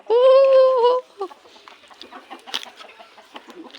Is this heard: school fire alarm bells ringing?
no